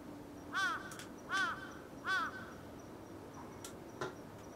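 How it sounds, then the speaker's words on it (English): A crow caws three times at an even pace in the horror video game Akai Onna, the harsh calls fairly close and clear over a quiet ambient hum, followed by a softer tap. "What's with this bird?"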